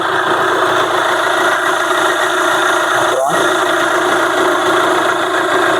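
A 2016 Hyundai Creta SX Plus idles with the bonnet open, giving a steady, even engine hum close by with one brief knock midway.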